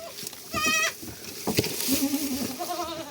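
A goat bleats twice in short wavering calls, close by, with faint background rustling between them.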